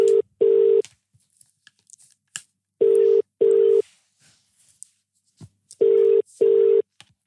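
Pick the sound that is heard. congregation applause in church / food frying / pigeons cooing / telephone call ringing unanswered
telephone call ringing unanswered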